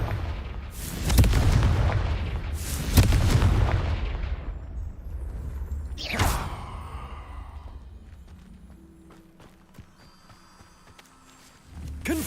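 Blasting spell explosions from the Confringo charm in the Hogwarts Legacy video game: several loud booming bursts in quick succession, each with a rumbling tail, fading into quieter ambient game sound before another thump at the end.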